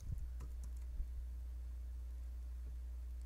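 A handful of faint, sparse keystrokes on a keyboard, clustered mostly in the first second, over a low steady hum in an otherwise quiet room.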